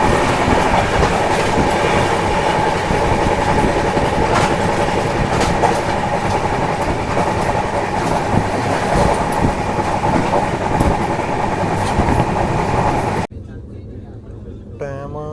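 Loud, steady rumble and rattle of a moving passenger train on the Punjab-to-Kashmir route, heard from inside, with rhythmic clatter, ending abruptly in a quieter interior hum.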